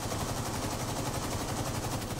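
Small video game turret machine guns fire in a continuous rapid rattle that stays constant and dense from start to finish, with no talk over it.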